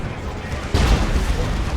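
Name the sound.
Demolisher Cannon shot in video game Dawn of War 2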